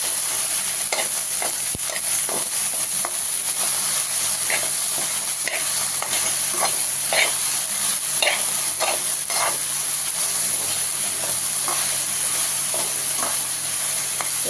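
Salted ladies finger (okra) frying in a pan, a constant bright sizzle under a string of soft, rhythmic scraping strokes as a spoon stirs it, close and continuous with no voices.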